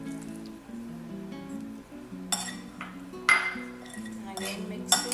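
A spoon mixes sweet corn chaat in a bowl, giving a few bright metallic clinks and scrapes in short bursts over quiet background music.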